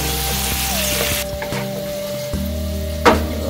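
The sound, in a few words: garlic tofu sauce sizzling in a pan while being stirred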